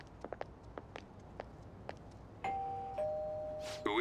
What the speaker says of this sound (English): You ring the bell.